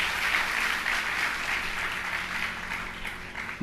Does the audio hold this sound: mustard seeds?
no